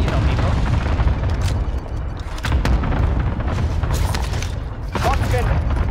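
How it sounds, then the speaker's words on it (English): Cluster strike explosions land in a multiplayer shooter video game as a rolling barrage of deep booms and crackling blasts, with players talking over the din. "Cluster strike arriving."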